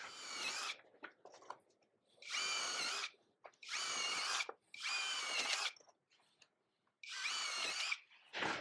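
A power drill bores bolt holes for a mini trike's blown bubble top in five loud, separate whirring runs of about a second each, with quiet pauses and small handling knocks between them.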